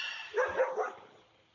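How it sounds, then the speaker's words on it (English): Dogs bark three quick times in a row, fairly close, and then the sound fades away. "I'm sorry my dogs are barking."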